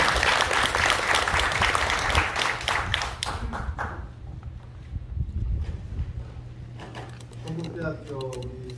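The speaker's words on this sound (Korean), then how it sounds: "여러분 큰 박수로 부탁드리겠습니다." Audience applause at a university alumni forum, a dense burst of clapping that thins out and fades, then a voice begins speaking near the end.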